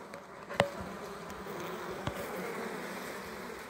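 A close, steady drone of Italian honey bees swarming as they are hived outdoors, with a couple of sharp handling clicks breaking the continuous buzz.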